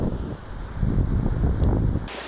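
Ocean surf and wind at Cocoa Beach, Florida, a steady broadband roar of waves with wind buffeting the microphone, fairly loud and continuous with no talk.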